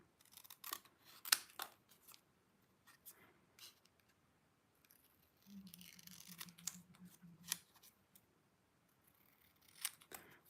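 Scissors snip out a small easel-shaped paper card piece in quiet, scattered close cuts, with faint rustling and handling between the snips.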